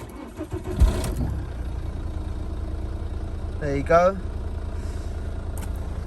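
A Ford Focus 1.6 diesel cranks and catches, then settles into a steady low idle with an even rumble, with a short spoken remark over it.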